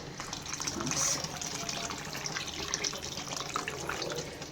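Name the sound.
hot water being poured into a clay pot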